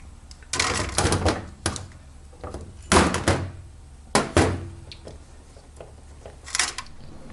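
Scooter final drive gearbox cover worked loose and pulled off by hand after being tapped with a hammer, giving a few sharp knocks and scraping clunks at close range with quiet pauses between them.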